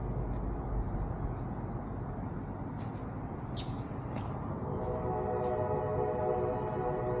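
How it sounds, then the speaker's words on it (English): A train passes steadily through a small Georgia town, a continuous low rumble of rolling cars with a few brief higher squeals or horn-like tones partway through. "Another train, we've already missed one train today."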